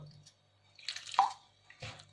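Water is added little by little to samosa dough in a kitchen, giving a few soft, close drips and splashes spaced apart amid quiet.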